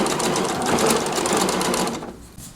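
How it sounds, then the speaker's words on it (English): A sewing machine runs a long stitch around a T-shirt neckline, whirring steadily and rapidly up close for about two seconds before slowing and stopping. "I sew all the way around with this longer stitch"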